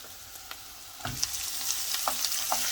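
Tomatoes go into softened, lightly browned onions frying in a pan for butter chicken, giving a soft continuous sizzle with a thump as they land, followed by a few clinks and scrapes of stirring.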